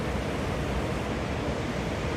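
Water pouring from two of the three outlet nozzles at the base of a roughly 70-metre concrete dam at La Tajera reservoir, which is at maximum capacity: a dense, continuous roar heard without any talking.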